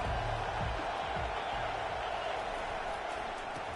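Stadium crowd in the College Football 25 video game, a steady dense roar of many voices, loud and continuous throughout.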